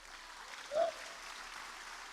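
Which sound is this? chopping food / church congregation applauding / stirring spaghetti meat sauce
church congregation applauding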